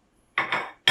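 Chopped mirepoix of onion, celery and carrot tipped into a pot of chicken stock: two close, quick clattering splashes in a row, then a third burst starting at the very end, with no talking.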